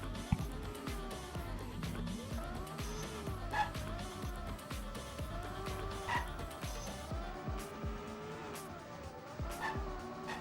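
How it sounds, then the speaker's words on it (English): Racing cars in a video game rev and shift through gears, with engine notes rising and dropping in waves alongside repeated tire squeals and skids, moderately loud and continuous without talk. "Yeah, I don't know why the engine sound is so quiet."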